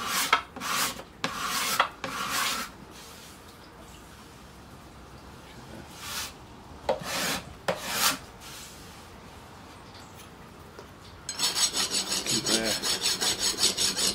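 A hand scraper shaves the wooden body of a Trigger 2 electric guitar in rasping strokes, with a faster, denser run of scraping toward the end.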